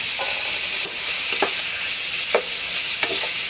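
Chicken liver and gizzard adobo sizzles steadily in a hot pan while a utensil stirs, with a few soft scraping knocks over the continuous frying hiss.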